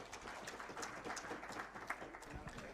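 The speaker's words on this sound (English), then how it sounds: "Another round of applause for Honorable NDINDI." Applause at a parliamentary gathering of MPs and senators for Honorable Ndindi Nyoro, a fairly faint, steady patter of clapping from a seated audience throughout, with some murmuring mixed in.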